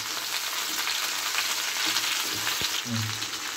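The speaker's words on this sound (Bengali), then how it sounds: "সব একটা একটা করে একটু একটু ভাজা হয়ে যাচ্ছে" Vegetables for pui shak chorchori frying in a pan, including ridge gourd and eggplant, giving a dense, even sizzle with a few faint stirring knocks and no talking.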